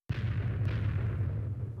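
An explosion in Minecraft goes off as one sudden loud boom, followed by a deep rumbling tail that slowly fades, with no talking.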